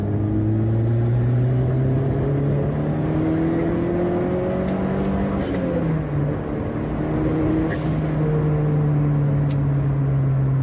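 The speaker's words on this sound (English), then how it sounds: "So I'm just going to do third gear power run." Vauxhall Nova GTE 16V turbo accelerating hard in third gear, a loud, close engine note rising steadily in pitch, dipping briefly at a shift point, then climbing again under continuous road rumble.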